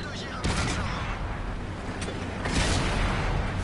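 Tank cannon fire in a World War II tank video game rings out as a couple of sharp, booming shots over a dense, noisy battle background, with no speech.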